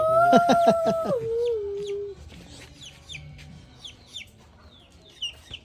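Fighting cocks cluck loudly up close in a burst of rapid, throaty calls lasting about two seconds, followed by quieter scattered chirps of small birds in the background.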